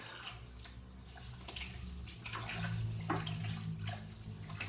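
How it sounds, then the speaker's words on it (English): Water in a bucket of rosehip wine must is splashed and churned to aerate it, making a continuous close sloshing and gurgling that swells louder partway through. "So lots of splashing to aerate it."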